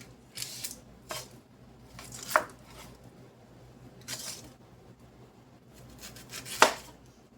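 Big Vidalia onions having their tops cut off and being halved with a knife, several crisp separate cutting chops spaced a second or two apart against a quiet background, no talking.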